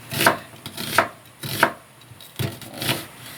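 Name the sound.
chopping onion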